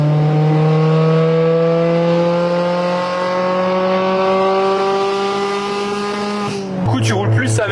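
A Mazda MX-5 with an Akrapovic exhaust pulls hard through a gear, its loud buzzing engine note climbing steadily in pitch before a quick shift and a fresh rise, heard from inside the car in a forest.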